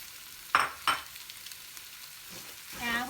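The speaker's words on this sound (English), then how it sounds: "once our onion and our garlic and our chilies are like sauté, we're gonna go ahead and throw in the shrimp" Shrimp sautéing in a pan with onion, garlic and chilies, with a couple of sharp stirring scrapes and a soft sizzle, then a rising hiss as more heat or food hits the pan.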